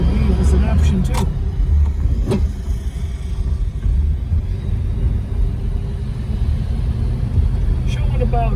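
A 1947 Packard Super Clipper rolls along the road with a slight clutch shudder on engagement, its engine and road noise forming a steady, close, low rumble throughout, with a few brief clicks near the start.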